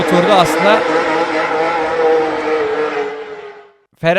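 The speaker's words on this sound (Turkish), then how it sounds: "Şimdi sizlere gazlanırken hibritten içten yanmalı motora geçişin sesini dinletmek istiyorum." A Ferrari race car accelerates, its engine moving from hybrid power to combustion, a loud rising roar with shifting engine tones that fades away over about four seconds before a brief new burst.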